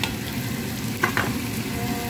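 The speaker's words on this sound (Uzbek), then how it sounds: "Bunu men bir 2 minut aralashtirib qo'raymiz." Rice and vermicelli stir-fry in a pot for Uzbek chickpea pilaf, giving a steady sizzle with a couple of brief utensil scrapes near the middle. No voices.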